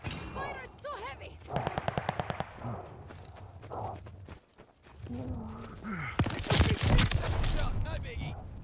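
Heavy gunfire in the online shooter Call of Duty: Vanguard, with a rapid run of evenly spaced automatic bursts followed by a louder, denser barrage of close shots and explosions over game voices and effects.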